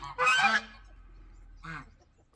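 Two short, hoarse, honking crows from young roosters, the first longer and louder, the second briefer, with a quiet pause between them.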